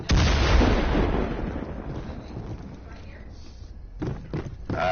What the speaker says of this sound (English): Grenades coming in at you